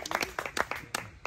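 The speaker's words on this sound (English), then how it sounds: "How about a big round of applause," A small group on a day tour in Aitutaki, Cook Islands, claps briefly, with distinct, separate hand claps in an uneven rhythm, close by and fairly loud.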